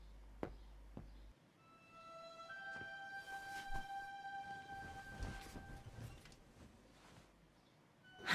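Tram ride in the video game Syberia: The World Before, a quiet rolling rumble with sharp clanks, metallic squealing tones and a brief horn-like whistle, fairly faint, with no voices.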